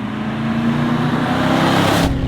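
A Holden HQ replica Monaro on the road, its engine droning loud and steady from inside the cabin with broad road noise throughout.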